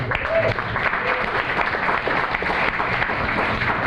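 An entrepreneurship panel audience applauds a speaker's upcoming master's graduation in social work; steady, fairly close clapping from a modest crowd that holds evenly across the clip, with a brief tonal voice-like sound early on.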